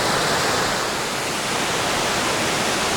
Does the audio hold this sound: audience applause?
no